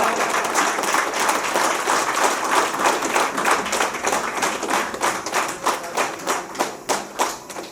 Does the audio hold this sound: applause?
yes